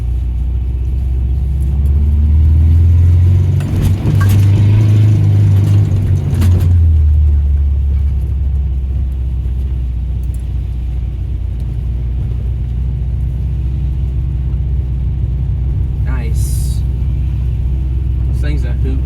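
Heard from inside, a 1979 Subaru car drives along with a deep, loud engine rumble that swells briefly in the first few seconds, then settles into a steady road drone with faint rattles.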